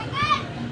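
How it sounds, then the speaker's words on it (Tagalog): Children's voices at play outside, a lively chatter of kids in the background heard over a low steady hum during a stand fan repair. "mga bata naglalaro"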